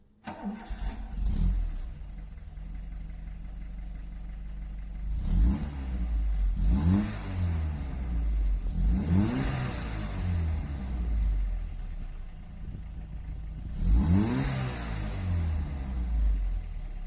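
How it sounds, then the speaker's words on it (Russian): An Audi 100 C3 1.8 with a straight-through Buzzer exhaust starts, then settles into a steady idle broken by four sharp revs that rise and fall back, moderately close, with no voices. "Так, прямоточный выхлоп."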